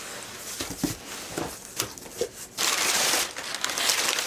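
Dry packing paper crinkling and rustling in short bursts as a book order is unpacked, then a denser, steady crumpling rush near the end, close up with no talking.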